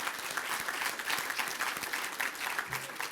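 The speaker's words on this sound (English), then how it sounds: "One more round of applause for both of them, please." An audience at a regional chamber economic forecast claps steadily for award winners, a dense, even burst of applause that carries through without a break.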